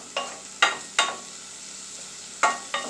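Chopped onions cooking in a pan for Puerto Rican beans, a steady soft sizzle broken by five sharp scraping stirs of a utensil against the pan, close and with no talk.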